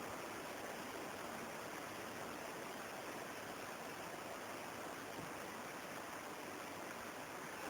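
A mountain stream rushing at the source of the Belichka river, a continuous even babbling roar, fairly faint and steady throughout with no voices.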